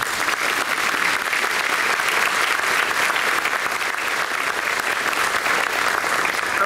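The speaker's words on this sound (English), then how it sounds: "Please recognize our former outstanding graduates with your applause." A banquet crowd at a university alumni reunion gives steady, sustained applause honoring former outstanding graduates, a continuous wash of many hands clapping throughout.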